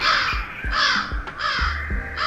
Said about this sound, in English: Some kind of a bird or something.